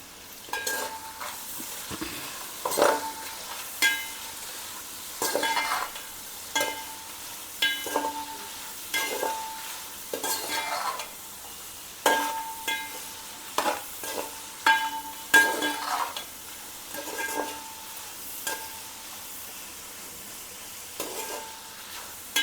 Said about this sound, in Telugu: ఉల్లిపాయ కొంచెం వేగడానికి సాల్ట్ వేస్తున్నాను.